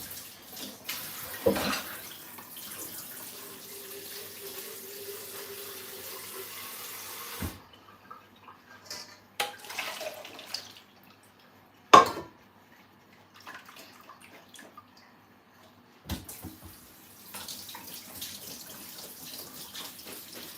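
Tap water runs into a kitchen sink while beans are rinsed, a soft intermittent splashing and trickling that starts and stops several times, with brief clatters of handling in between.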